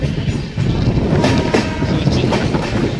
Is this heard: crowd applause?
no